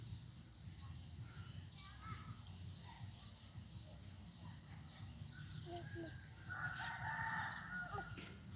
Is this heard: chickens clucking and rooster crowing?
yes